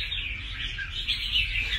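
A caged red-whiskered bulbul sings a steady, bright run of chirps and trills that carries on through the whole stretch, fairly close and clear, with a low rumble of background noise beneath and no talking.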